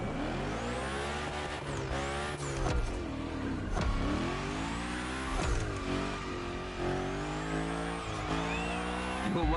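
The Unicorn car slides through a gymkhana course in The Crew Motorfest, its engine revving up and down in repeated surges with tire squeal through big slides, loud and continuous.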